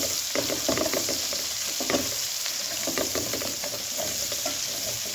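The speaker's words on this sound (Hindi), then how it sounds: "इसको हमने लहसुन को फ्राई कर लेना" Garlic sizzles and fries in hot oil, a steady, close crackling hiss with occasional stirring scrapes and no talking.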